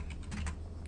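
Rapid clicking of a computer keyboard, typed at a steady pace, close up and alone.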